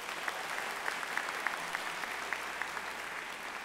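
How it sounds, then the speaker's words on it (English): A large commencement ceremony audience applauds the FAU ROTC color guard, a soft, distant wash of clapping with a few sharper individual claps standing out in a steady rhythm. "Please join me in giving a round of applause to the FAU ROTC for the presentation of colors"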